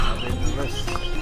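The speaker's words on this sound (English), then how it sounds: "I was like, oh, Tim, there's horses." Horses near an active volcano at Bromo in Indonesia: a busy wash of hoof clip-clop and animal noise mixed with steady outdoor rumble and voices, loud and continuous throughout the short stretch.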